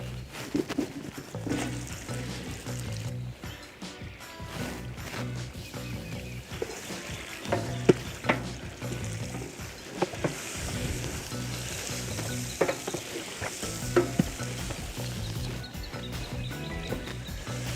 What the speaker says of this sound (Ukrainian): Обжарюємо телятину.